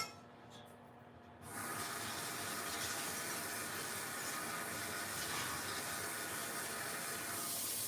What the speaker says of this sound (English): put some water in here now